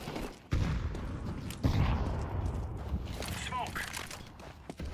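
Wallbang gunfire in Counter-Strike 2 matchmaking: two sharp, loud shots about a second apart, then a busy tail of game noise with a voice talking underneath.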